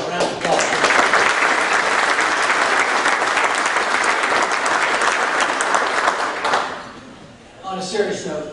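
A round of applause from the audience at a 2019 Marine Corps dinner for Sergeant Major Roy: loud, steady clapping for about six seconds that fades out, then a brief voice.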